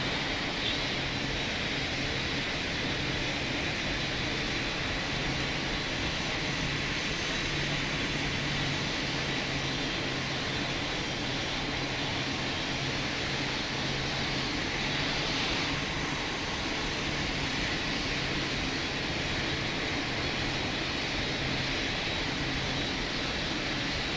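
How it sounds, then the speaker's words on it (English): An aircraft taking off in the Roblox PTFS flight simulator, a steady, moderately loud engine drone with a smooth broadband roar and no speech throughout. "Delta 5553, you're cleared for takeoff on 26, follow the Wizz Air A320 on departure"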